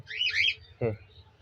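A pet cockatiel recovering from a cold gives a burst of high squawking chirps, then a short harsher squawk, close and loud with brief quiet between.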